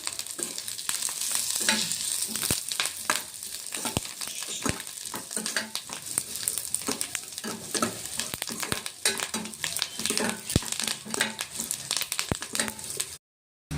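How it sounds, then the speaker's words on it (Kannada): Onion and garlic sizzle loudly in a pan with cumin while a utensil stirs and scrapes in quick irregular strokes, close up, before stopping abruptly. "ನೋಡಿ ಈರುಳ್ಳಿ ಬೆಳ್ಳುಳ್ಳಿ ಎಲ್ಲ ಫ್ರೈ ಆಗಿದೆ"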